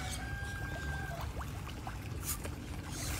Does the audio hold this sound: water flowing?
yes